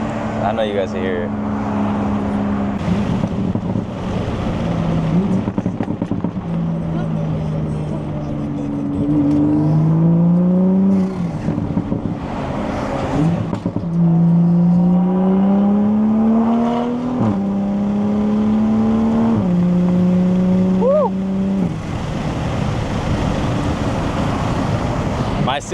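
Toyota MK5 Supra with an aftermarket downpipe, pulling through the gears on the road. A steady exhaust drone gives way to rising revs with a series of quick shifts, loud and continuous, with some cabin noise mixed in.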